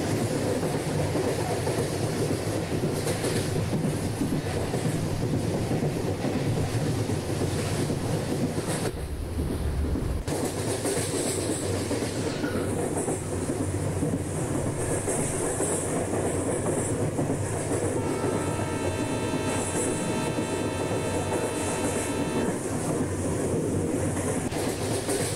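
An express train from Rameshwaram to Kanyakumari runs on rails in a train simulator game on the approach to Madurai Junction, with a steady, loud rumble and clickety-clack throughout and a short tonal horn-like chord late on.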